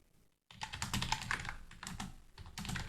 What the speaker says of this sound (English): I'm still typing querySelector